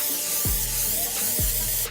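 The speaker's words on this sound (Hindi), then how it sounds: "कीड़े कूड़े मारन वाला स्प्रे" A can of insect-killing spray hisses in one steady, close burst lasting about two seconds, cutting off at the end.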